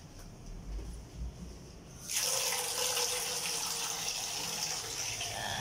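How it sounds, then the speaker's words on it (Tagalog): Tap water gushing into a sink while dishes are washed, starting abruptly after a quiet moment and then running steadily and fairly close. "Oh, ang dami kong hugasan. Maghuhugas ko pala tayo."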